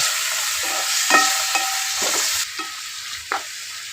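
A loud, steady hiss of salted, peppered beef frying in a pan, with a few spoon scrapes and clicks as it is stirred.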